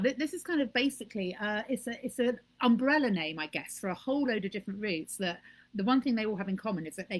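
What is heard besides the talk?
No everyday noise stands out behind the speech.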